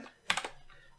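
Several quick keystrokes on a computer keyboard clustered in a short burst, close and fairly quiet, followed by a faint lingering background hum.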